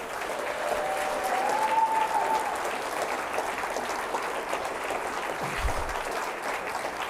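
Steady, sustained applause from a large university audience honoring standing deans and cabinet members, a dense, even wash of many hands clapping throughout with no pauses.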